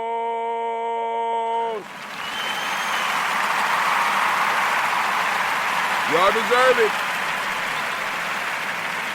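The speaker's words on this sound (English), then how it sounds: "Giving all the Umoja babies a round of applause." A round of applause breaks out for the Umoja children at a Kwanzaa gathering, a dense wash of clapping and crowd noise that follows a short burst of music and carries on steadily beneath a speaking voice.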